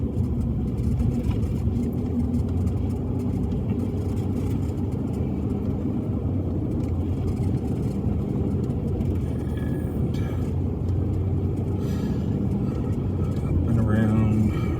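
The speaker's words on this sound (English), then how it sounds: "Test to see if my little truck can handle getting through this snow" A small truck grinds along a snowy, muddy, icy farm road, its engine rumbling low and steady from inside the cab while people talk over it throughout.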